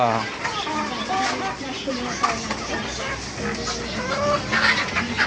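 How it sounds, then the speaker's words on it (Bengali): Chickens of several breeds, including large Tiger birds, cluck steadily at a poultry farm in Chattogram, a busy continuous chatter of birds under people talking nearby. "বিভিন্ন ধরনের মুরগি।"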